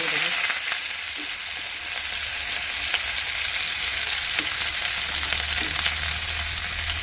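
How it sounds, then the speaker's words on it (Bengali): Raw onions frying in hot oil after dried chillies, a dense continuous sizzle and crackle, loud and close, with a few faint stirring scrapes and no speech. "কাঁচা পেঁয়াজটা তেলে করে দিয়ে নিয়েছি যে পেঁয়াজটা একটু ভালো করে ভেজে নেব"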